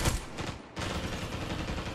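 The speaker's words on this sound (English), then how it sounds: "I'm gonna shoot him." Rapid gunfire bursts from the shooter game Spectre Divide, a dense rattle of close shots with a brief gap before another sustained volley.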